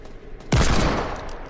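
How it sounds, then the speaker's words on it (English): A single loud, close gunshot from a first-person video game shooter cracks out after a quiet lead-in, its broad blast tailing off with a short decaying echo. "I shot him in the head"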